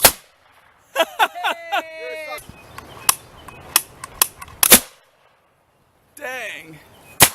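A homemade potato cannon fires with a sharp, loud crack after a counted launch, followed by clattering and short bursts; people talk and exclaim around it.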